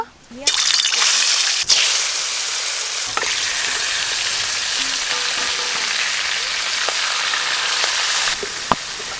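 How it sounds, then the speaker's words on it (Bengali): Desi magur catfish frying in a pan in a village kitchen, a loud, steady, close-up sizzle that holds continuously for about nine seconds with a few sharp clicks along the way. "এবার আমি মাছগুলো ভালো করে ভেজে নেব।"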